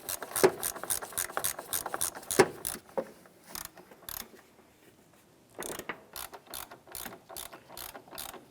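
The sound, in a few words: tightening engine mount bolt on 2004-2008 Acura TL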